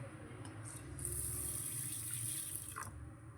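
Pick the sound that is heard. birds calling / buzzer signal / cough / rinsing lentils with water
rinsing lentils with water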